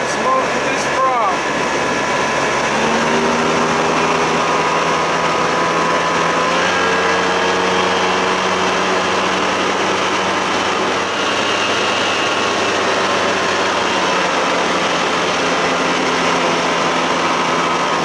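A 1992 60 hp Johnson outboard motor runs steadily with a new propeller, a continuous loud droning hum with little variation.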